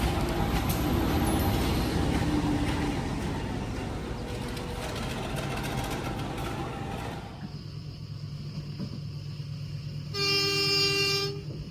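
A local KA Pasundan train in Indonesia, with steady rumbling rail noise and carriage hiss that drops away before a loud horn toot sounds near the end.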